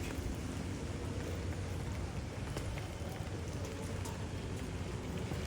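Steady, dense rain falls outdoors during a day of continuous downpour, a constant even hiss that holds level throughout with no voices.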